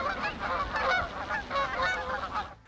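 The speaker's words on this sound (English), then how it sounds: "Geese are large water birds that are known for their long necks and distinct honking sounds." Geese honking steadily at a pond, a dense overlapping chorus of loud calls from several birds in a group, continuing without pause.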